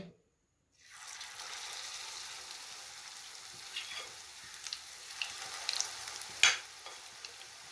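Taro leaf (arbi ke patte) pakoras dropped into hot oil set off a steady crackling sizzle that starts after a moment of silence and continues with scattered pops and clinks, close up and without talk.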